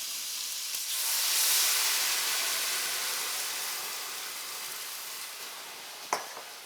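Red wine hitting a hot cast pot after beef has browned to a crust, a loud steady sizzle and hiss that swells early then slowly fades, with a short clink near the end.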